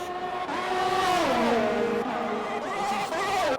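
Race cars in a video game racing at the Brazilian Grand Prix, engines whining and shifting pitch as they rise and fall through the gears, loud and close and running without a break.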